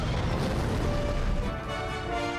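Explosion effects from an episode of Star Wars: The Clone Wars season 7, a heavy low rumbling blast with crackling debris, loud and sustained with no talk over it.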